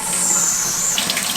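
Hot water pours steadily from a tap into a small mason jar, a close, continuous splashing rush that shifts in tone near the end as the jar fills.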